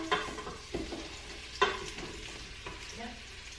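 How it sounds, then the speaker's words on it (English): Mushrooms sautéing in an Instant Pot, with several distinct stirring scrapes and clatters over a low, steady sizzle, close and moderately loud, no talking. "I'm going to dump in those mushrooms."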